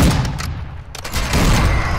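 M13 assault rifle fire in Warzone 2, a dense, loud burst of gunshots with booming low rumble, breaking briefly before another sustained volley, close and heavy.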